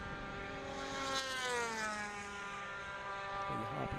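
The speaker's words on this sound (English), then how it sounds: "these Division 1 twin cylinder karts probably down the back straight, probably approaching something like 140 mile an hour" Division 1 twin cylinder superkarts race down the back straight at Anglesey during a British Superkart Championship race, a sustained high-pitched engine whine with Doppler-shifting tones as the karts pass at speed, loud and steady without talk.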